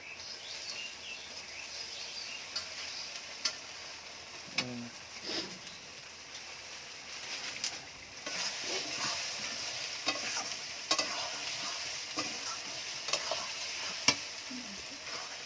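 Pieces of country chicken sizzle and fry in a hot pan for a special chicken curry, with steady frying hiss and repeated scraping stirs and clicks of a utensil close by, no talking.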